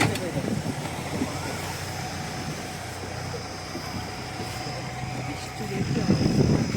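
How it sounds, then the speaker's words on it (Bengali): A small boat passes on the lake at Maithon Dam, its steady motor drone running continuously at moderate distance, swelling slightly louder toward the end. "ওই একটা ছোট বোট গেল।"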